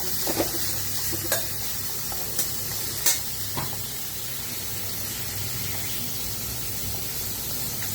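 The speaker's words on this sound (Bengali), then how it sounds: "এটাকে আস্তে করে ভেজে নেব" Food frying slowly in a pan, a soft steady hiss throughout with a few faint ticks and pops near the start, close and without voices.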